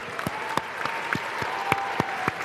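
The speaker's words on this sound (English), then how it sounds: "Round of applause for that answer." An audience at a tech talk event gives a round of applause, a continuous crowd clapping texture with scattered sharper individual claps standing out.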